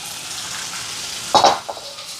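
Tamarind fenugreek curry bubbling in a pan, a soft steady hiss close by, with a brief clatter of a utensil partway through.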